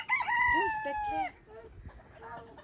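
A rooster crows once, loud and close, its long call trailing off, followed by faint clucking and soft background chatter.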